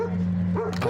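A dog barking during a roadside confrontation, with a couple of short yips and whines near the end over a steady low hum.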